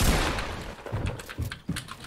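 Gunfire in an online shooter video game: a spray of rapid shots followed by a few separate sharp bangs, loud and close with no talking.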